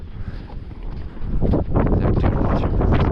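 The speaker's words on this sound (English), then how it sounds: "But the wind's really ripping." Strong wind buffeting the microphone on a beach at St. Andrews where land sailing carts are racing, a loud continuous roar that swells midway, with a brief spoken word.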